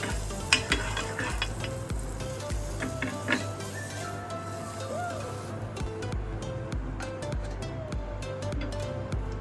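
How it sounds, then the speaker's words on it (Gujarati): Butter sizzling on a hot iron griddle while rava uttapam is prepared, a soft frying hiss with scattered ticks and scraping clicks of a utensil, close by and fairly quiet, with no talking. "એમાં થોડું થોડું આપણે બટર લગાવીશું."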